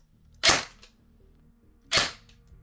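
Two sharp, loud reports about a second and a half apart come from an E&C 417 airsoft gun firing BBs at close range, with near silence between the shots.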